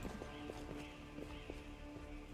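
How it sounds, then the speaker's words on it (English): Horses in a fantasy role-playing video game, steady clip-clop of hooves in an even walking rhythm over a droning musical background, moderately close and without talk. "I think it's just some horses."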